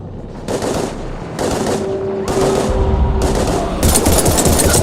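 Sustained bursts of automatic gunfire in the Mass Effect 3 video game, loud and close, coming in several rapid volleys separated by short gaps and ending in a dense, heavier barrage.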